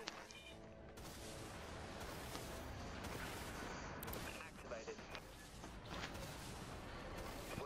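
Rapid bursts of naval gunfire and heavy cannon blasts in the PS4 game Dreadnought boom repeatedly over a dense background of explosions and engine rumble, with players talking over the combat.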